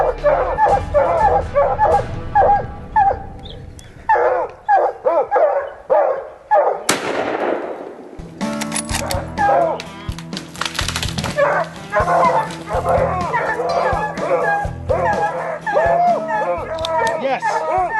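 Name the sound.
hunting dogs barking and yipping during mountain lion hunt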